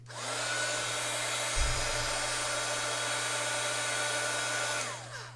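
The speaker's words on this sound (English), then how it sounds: "I'm going to just turn on my embossing gun, and I'm going to leave it on for about a minute or two" A heat embossing gun melts embossing powder with a steady, loud blowing whir that runs almost the whole time, with a brief bump partway through, then winds down as it switches off.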